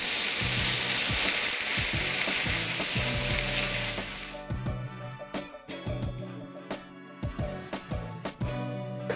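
Chicken fries in a hot pan with a loud, dense sizzle that cuts off abruptly, leaving quieter scraping and tapping of stirring in the pan.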